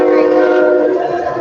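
A loud, sustained train horn blares steadily for the whole stretch, its layered tones holding without a break and no voices over it.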